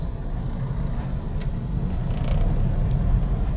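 A car pulls into a restaurant parking lot in Pasay, its steady engine rumble and road noise moderately loud and continuous, rising slightly toward the end, with no talk.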